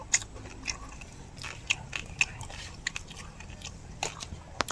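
Roasted rat being bitten and chewed during a rat-hunting outing in the forest, with a run of close, sharp crunches and bites spread irregularly over a soft background.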